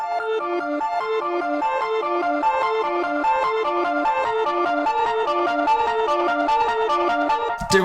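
A Flume-style synth in Ableton with reverb repeats a bright, bell-like arpeggiated pattern steadily for several seconds, notes washing into each other, alone and fairly loud.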